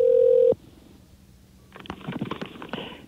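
A telephone line: a steady tone cuts off abruptly, then after a pause a quick string of clicks and dialing pulses follows, close and clear, as a call is placed.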